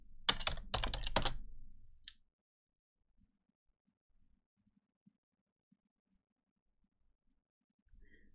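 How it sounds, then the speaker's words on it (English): Fast typing on a computer keyboard, entering a gpupdate /force command at a Windows command prompt, comes as a short close burst of clicking keystrokes followed by a single key press, then near silence. "let's type our gp update slash force"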